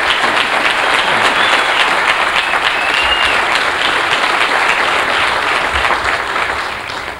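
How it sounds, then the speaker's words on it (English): Sustained audience applause fills a church sanctuary at a 1990 service, dense steady clapping from a large crowd that holds loud and even for several seconds before easing slightly at the end. "Let's give him another round of applause."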